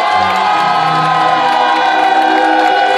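A live audience at a marriage proposal applauds and cheers, a loud, sustained roar of many voices with whoops and mixed clapping, steady and full from start to finish.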